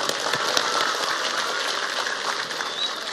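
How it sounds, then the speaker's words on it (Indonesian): An audience at an Indonesian religious lecture in Indramayu breaks into applause, a loud, continuous patter of many hands clapping with no voice on top. "Tepuk tangan untuk Indramayu."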